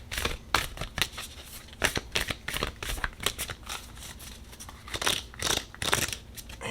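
Tarot cards are shuffled at close range in a steady run of crisp riffling flicks and soft papery slaps, fairly quiet and with no talking.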